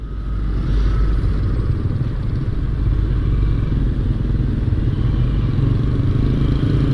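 A motorcycle on a rainy touring ride runs steadily with a loud, continuous low engine drone and rumble, close up, with a buzzy roar that holds without pauses.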